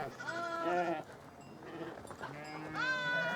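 Sheep in a traditional Navajo corral bleat several times, wavering and nasal, close by, with a pause between calls and a final loud bleat, and a voice talks faintly underneath.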